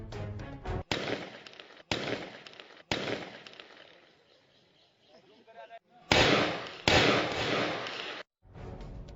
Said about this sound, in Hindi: एक युवक छत पर चढ़ गया और ताबड़तोड़ फायरिंग करने लगा।